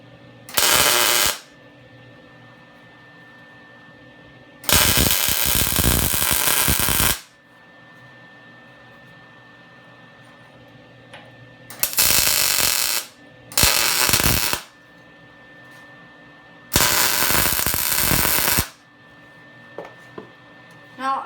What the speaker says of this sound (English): Go ahead and give it a tack here, and then weld it.